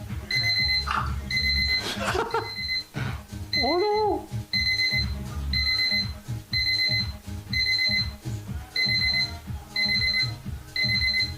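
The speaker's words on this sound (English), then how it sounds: "What is beeping? Something is horribly beeping." A loud, rapid electronic beeping repeats steadily in pulsed bursts throughout, with a person's brief exclamations and movement noises mixed in.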